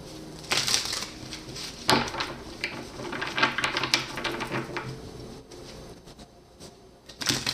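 A deck of tarot cards is shuffled up close in a series of irregular riffling and snapping bursts, with brief pauses between handfuls.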